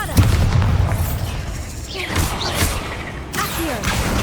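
Confringo and Bombarda spell blasts in the Hogwarts Legacy video game: a heavy boom at the start followed by further bursts and whooshing magical effects, loud and close.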